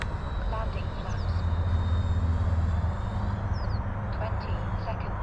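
An FMS Super Scorpion 90mm EDF radio-controlled jet flies past in wind, giving a steady, moderately loud ducted-fan whine and rush that rises slightly and then eases, with wind noise underneath.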